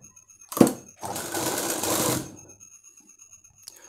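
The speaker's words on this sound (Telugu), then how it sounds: "ఇప్పుడు మనం ఈ నెక్కి మనం థ్రెడ్ పైపింగ్ కుట్టుకోవాలి ఫ్రెండ్స్" A tailor's sewing machine stitches thread piping onto a blouse neckline: a sharp mechanical clack, then a steady rapid stitching run of about a second and a half that trails off, with a faint tick at the end.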